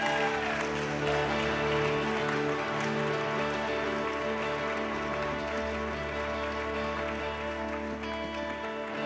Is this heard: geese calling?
no